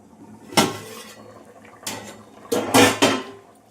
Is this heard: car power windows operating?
no